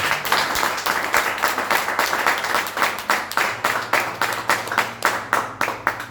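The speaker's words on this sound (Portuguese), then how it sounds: "Glorifica a Deus com palmas." A church congregation claps together in a steady, regular rhythm during a worship service, with an even beat that carries on throughout at moderate loudness and a faint background hum.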